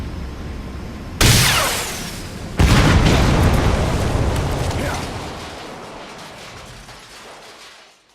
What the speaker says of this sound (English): You destroyed the separator tank.